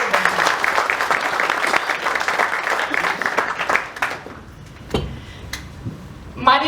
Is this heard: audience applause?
yes